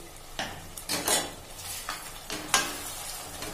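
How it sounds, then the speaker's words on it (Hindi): Tomato paste being stirred into oil-released cooked masala in a pan for potato curry, with repeated scraping strokes of a spoon against the pan over a soft background sizzle, close and without talk. "मिक्स कर देंगे।"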